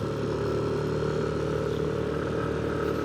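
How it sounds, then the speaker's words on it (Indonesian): A touring motorcycle engine strains on a slow uphill mountain road near Dieng, a loud, steady, close drone with a labored rumbling tone that holds constant throughout, with no voices over it. "Motor gua ngeden coy."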